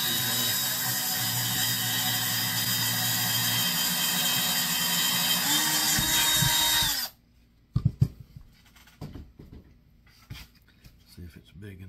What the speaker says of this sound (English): drill a hole up through there.